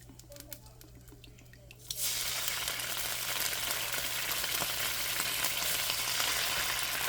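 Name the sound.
soy sauce and remaining ingredients added to sizzling stir-fry pan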